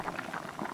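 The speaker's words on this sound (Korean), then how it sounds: "바글바글 끓어오르면 1분 정도 끓이고" Potato soup with onion, carrot and zucchini bubbles vigorously in a pot, a brief, fairly soft run of close, rapid bubbling.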